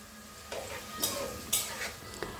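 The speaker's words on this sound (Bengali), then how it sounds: "এখন আরও কিছুক্ষণ ভাজবো।" Cumin and chili powder fry in a pan while a spoon stirs, giving several distinct scraping clinks against a soft sizzle, close and moderately loud.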